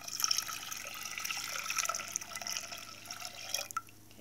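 Water poured into a pot of dry quinoa, a steady splashing pour with a bright, trickling texture that tapers off near the end.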